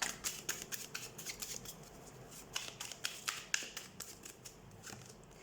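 Tarot cards shuffled and handled during a weekly reading, giving a quick series of soft crisp riffles and flicks, close and fairly quiet, with no talking.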